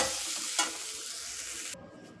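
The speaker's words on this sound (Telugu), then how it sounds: "వెలగపండు అందులో పచ్చి కొబ్బరి తురుమును కూడా వేసేద్దాం వేసి రెండు కలిపి వేయించేసుకొని" Wood apple pulp and grated fresh coconut stir-fried in a pan, a steady close sizzle with scraping stirs and a sharp clink partway, the frying cutting off near the end.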